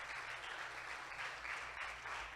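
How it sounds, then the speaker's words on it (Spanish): Steady applause from a church youth congress congregation, a dense continuous wash of many hands clapping that fills the whole moment at an even level without a break. "Dale un aplauso al Padre"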